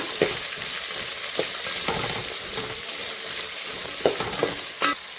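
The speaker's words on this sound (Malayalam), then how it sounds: "മഞ്ഞൾപ്പൊടി ഇട്ട് തേങ്ങാക്കൊത്ത് വറക്കും" Dried coconut pieces fry with turmeric powder for a beef curry, a steady broad sizzle running throughout with several sharp scraping stir strokes spaced irregularly across it, close and fairly loud, no talking.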